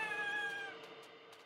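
A single drawn-out cat meow in the video game Endling: Extinction Is Forever, clear and close, fading into a faint soft tail.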